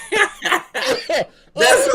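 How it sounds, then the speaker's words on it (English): A man on a live sneaker and coffee podcast gives several short, close, loud bursts. They sound like coughs mixed with laughter, and no words are spoken. "You got me coughing out here"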